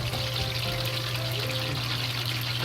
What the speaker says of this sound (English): Just let it fry.